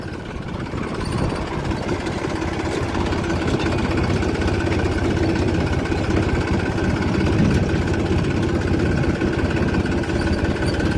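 Tractor engine running steadily in an open field, a loud continuous low rumble that holds nearly constant throughout as the machine is shifted into first gear, with no talk over it.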